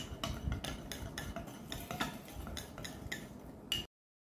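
Coffee powder mixture is stirred briskly in a small bowl, a rapid rhythmic scraping and clinking of a spoon that stops abruptly.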